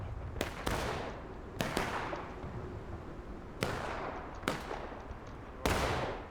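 Civil War reenactment muskets fire at will at a Blue and Grey event, six sharp, loud reports at irregular intervals, each trailing off in a long outdoor echo over a steady background hum.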